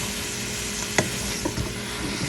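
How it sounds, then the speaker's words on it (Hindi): BBQ chicken noodles and vegetables are tossed in a hot pan, giving a steady sizzle with a few sharp scrapes and clacks of the utensil, and no talk. "अब इसको करते हैं मिक्स।"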